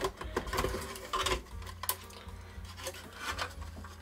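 The drive cage slides out of a 386 portable computer, giving close scraping and rubbing of metal and plastic with a few sharp clicks and knocks in uneven bursts, and no voices.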